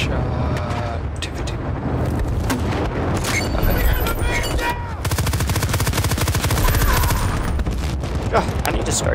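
Hip-fired gunfire rattles through Battlefield: Bad Company 2 on the Panama Canal map, with rapid automatic bursts, sharp cracks and heavy booms layered into a loud, continuous firefight.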